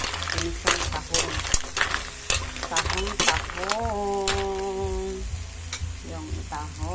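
Mussels sautéing in a pan, a low sizzle with scattered clinks and scrapes of stirring, heard close beneath a person talking throughout.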